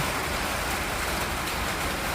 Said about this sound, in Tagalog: Buti na lang, umulan.